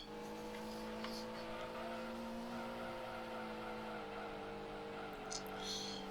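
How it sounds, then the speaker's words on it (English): A Honda Civic race car engine in a video game drones at a high, strained pitch on Trial Mountain, holding steady as if over-revved, with faint voices in the background. "Over-revving the motor,"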